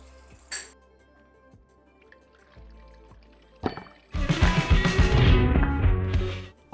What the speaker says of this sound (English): as Kendall pours the gin.